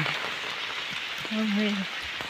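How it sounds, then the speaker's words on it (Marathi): Steady monsoon rain hisses across a surface in Konkan, a dense patter filling the background while a brief tone and faint voices sound over it. "आणि आताच पाऊस इलो"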